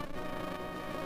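Bees buzz in Zelda: A Link to the Past, a brief, steady, faint droning hum with no talking over it.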